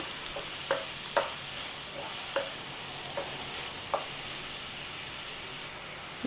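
Finely cut ingredients frying in a pan for a chicken dish, a soft continuous sizzle broken by repeated scraping knocks of a spoon stirring them, about eight strokes spread unevenly over the stretch, with no talking.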